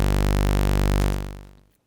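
A single sawtooth synth sub bass pitched one octave down holds a steady, loud, buzzy tone for about a second, then fades out smoothly to silence.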